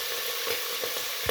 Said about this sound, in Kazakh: Етімізді қуырамыз.